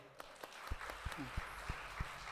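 Faint, scattered handclaps from a church congregation at a Sunday service, a handful of sharp separate claps spread unevenly over a couple of seconds against a quiet room.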